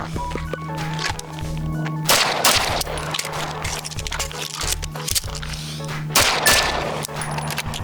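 Handgun shots during a shooting run with a reload, loud sharp reports in clusters separated by short pauses, with some handling noise between strings.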